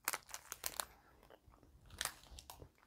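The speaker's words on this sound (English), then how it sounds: "Classic Oreo. Great smooth chocolate." Someone biting into and chewing a Classic Oreo cookie, with several crisp crunches at first and a louder crunch midway, then softer chewing, very close to the mic and no talking.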